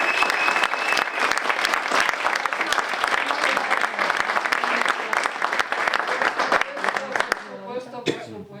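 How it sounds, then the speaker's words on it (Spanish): An audience at a storytelling event breaks into dense, sustained applause that fills most of the moment, then fades out as a voice begins speaking at the end. "Otro aplauso para"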